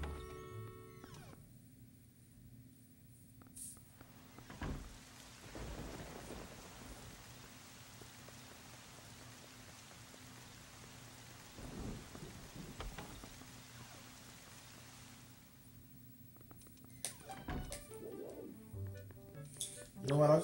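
Steady rain pattering with low rumbles of thunder in the video game Zelda: Wind Waker, a continuous soft wash of rainfall throughout with occasional louder bursts of ambience.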